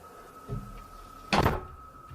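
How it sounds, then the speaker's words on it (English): A single solid thud of a door shutting, brief and fairly close, following a softer knock earlier in an otherwise quiet room. "I just command you to shut the door."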